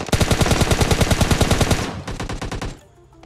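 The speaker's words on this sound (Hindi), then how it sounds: "आओ फायरिंग है।" In the mobile game PUBG Mobile Lite, a loud automatic weapon fires long, rapid bursts of shots up close, then stops abruptly into quiet.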